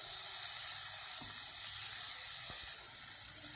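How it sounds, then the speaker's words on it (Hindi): Finely chopped tomatoes fry in a pan with a continuous soft sizzle, fairly quiet, with a couple of brief stirring knocks and no voices. "और अब हम इसमें डाल देते हैं बारीक कटे 2 टमाटर। इसको भी हम अच्छी तरह से टमाटर को भी कुक करेंगे।"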